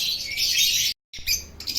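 Birds chirp and tweet in bright, busy bursts, broken by a brief moment of silence before the chirping resumes.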